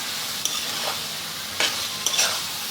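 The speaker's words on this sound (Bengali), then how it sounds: "এখন আমি এগুলোকে ভালো করে মিশিয়ে নিচ্ছি। একটু সময় ধরে কষিয়ে নিচ্ছি এগুলোকে 2 মিনিট ধরে।" Tomato chicken fries in a pan with a steady, close sizzle, while a spoon stirs and scrapes through it in a few brief strokes.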